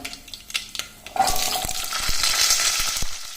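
Spices crackle and sizzle in hot oil for a tempering, starting with scattered pops and a clink, then a loud, continuous hiss with sharp crackles.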